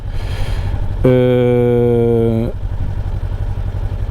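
A 2024 Honda NX500 motorcycle engine, the same 500X unit, holds a steady harmonic drone for about a second and a half over a constant low rumble, then drops back to a quieter idle-like hum.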